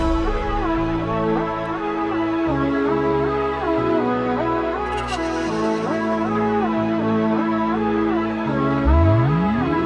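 A recorded soca song plays steadily and fairly loud, with a repeating bass and chord pattern and a rising sweep near the end.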